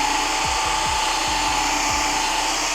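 A small machine polisher works a spot on car paint, giving a steady, close, high-pitched whine with a few low thumps as the pad presses and shifts.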